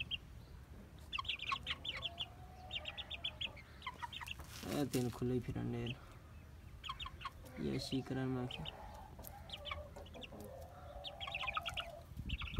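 Hens clucking repeatedly nearby, with bursts of louder squawking, while someone talks over and between the calls.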